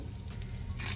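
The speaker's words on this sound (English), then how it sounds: "Got some butter in my pan, medium heat. Hear the sizzle." Green beans sizzle in butter in a pan over medium heat, a steady close crackling fry with a few brighter hisses toward the end and no talking.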